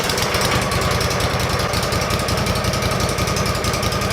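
Wood-Mizer sawmill cuts a 15-inch log with a loud, continuous engine drone and rapid buzzing blade chatter, steady and close throughout with no talking.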